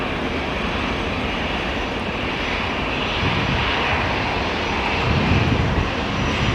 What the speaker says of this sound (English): Michael Jackson, the third Qatar flight to Doha in 45 minutes